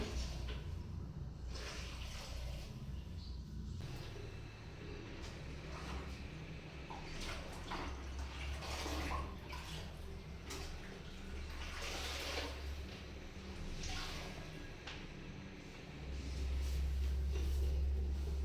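Wet mopping of a floor in a newly cleaned house brings faint, continuous splashing and swishing water sounds with soft squishy strokes, close by but quiet, running throughout.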